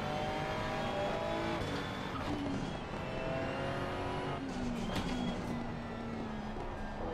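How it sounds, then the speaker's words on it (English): Ferrari 296 GT3 race car in Assetto Corsa Competizione at Valencia, a steady loud engine drone with rising and falling turbo whine and brief wastegate chatter, continuous with no talk. "You can hear the turbo spool."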